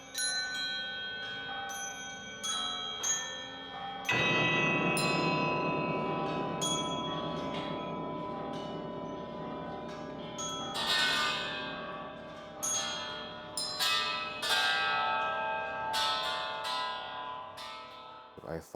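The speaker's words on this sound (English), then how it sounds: "I thought of the bell as an archive which houses a lot of different memories, both good and bad." Bells ring in a contemporary ensemble piece, a series of bright metallic strikes with long shimmering decays, at first sparse and separated, then layered over a dense sustained resonant wash, moderately loud and reverberant.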